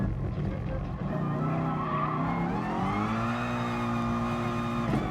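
A race car in GT Sport brakes too late, and its tires give a long, steady squeal as it skids. The engine drones underneath, close and continuous for several seconds.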